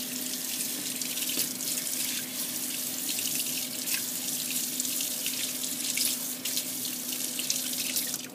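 Cold tap water runs steadily into a sink while a freshly etched circuit board is rinsed beneath it, a continuous close splashing rush with no talk.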